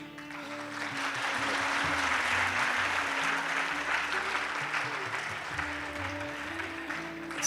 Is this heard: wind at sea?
no